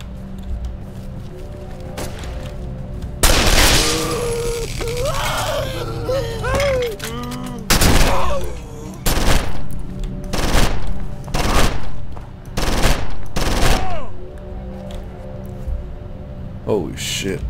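Repeated bursts of gunfire in the horror game Condemned: Criminal Origins, loud and close, cracking out in separate volleys with short gaps between them, while a person talks over the action.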